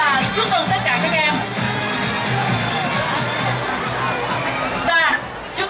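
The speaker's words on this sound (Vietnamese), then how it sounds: "Chúng ta hãy cùng dành tặng một tràng pháo tay thật lớn để chúc mừng các thí sinh" Audience at the 2017 Những nốt nhạc xanh music festival award ceremony in Đà Nẵng, with a dense, steady wash of applause, cheering and crowd chatter throughout, a few whoops standing out near the end.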